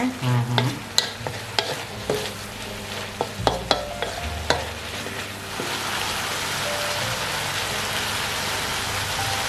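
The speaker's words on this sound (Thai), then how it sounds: "แล้วก็ลวนไปเรื่อยๆ เลยนะคะ เพื่อให้เครื่องปรุงเข้าไปในหมูดีๆ นะ" Pork stir-fried with seasonings in a pan: brisk scraping and tapping of a spatula at first, then settling into a dense, even, rain-like sizzle.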